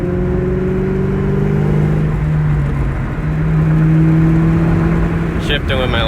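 A 2003–2004 Terminator Cobra drives along with steady engine drone and rising revs as gears are shifted by hand, the engine sound continuous and close throughout, ending with some clatter.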